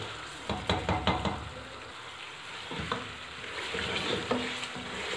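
Beef bong salan fries in oil in a pot, a steady close crackling sizzle with scattered louder spatters and stirring clatter throughout, no voices.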